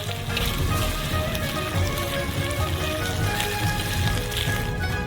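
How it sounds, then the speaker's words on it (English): Noodles with chopped green onions stir-fried in a wok give a steady, dense crackling sizzle that holds at an even level throughout, with no talking. "Transfer them into the wok. And mix it for a final time."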